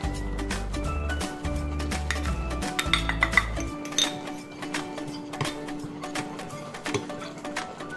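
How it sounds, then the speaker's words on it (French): A spoon clinks and scrapes against a small bowl while one tablespoon of cornstarch is stirred into four tablespoons of cold water, with light, irregular taps over a low steady background hum. "On va ensuite délayer notre fécule de maïs, donc 15 ml, une cuillère à soupe, dans 4 cuillères à soupe d'eau"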